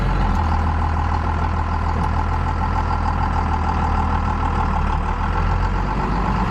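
A 4th Gen Cummins diesel pickup truck drones on in a steady low rumble, loud and constant throughout, with no voices.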